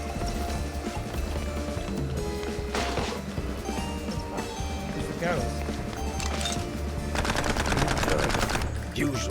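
Rapid gunfire from the video game Mouse: P.I. for Hire rattles in dense bursts under game music and effects, growing busier toward the end.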